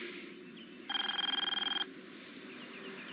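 A telephone rings in one clear burst of rapid trilling bell pulses lasting about a second, loud and close against a quiet room with low background hum, from a 1995 TV film.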